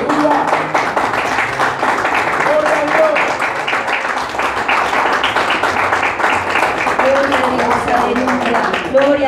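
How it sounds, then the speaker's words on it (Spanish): A church congregation applauds in a dense, sustained clatter of many hands, loud and continuous throughout, with voices speaking and calling out over it. "Denle un aplauso al Señor."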